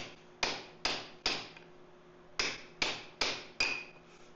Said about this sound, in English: We're going to try and just hit it with a punch and a hammer.